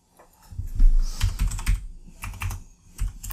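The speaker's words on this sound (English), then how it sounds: "I can't type with the microphone in front of my face" Keys clatter on a computer keyboard in quick irregular bursts, close and fairly loud, with brief pauses between runs of typing.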